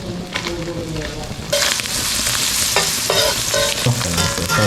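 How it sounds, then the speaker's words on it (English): Freshly caught and cleaned fish frying in butter in a pan, a loud, steady close sizzle that swells partway through, with some scraping and stirring on top and no talking. "And then throw them in the butter, start to crisp up."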